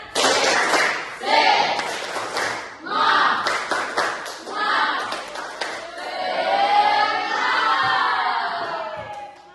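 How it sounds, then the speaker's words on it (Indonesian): A school class of children performs a tepuk semangat clapping chant, with bursts of rhythmic group claps and thumps alternating with loud chanted voices, ending in a sustained cheer. "mari kita refreshing dulu dengan tepuk semangat"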